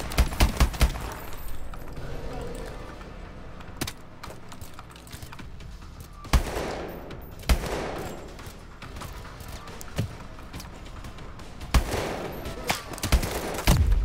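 Gunfire in Call of Duty Advanced Warfare, heard as sharp, close shots in scattered bursts and single cracks over a steady background of game ambience.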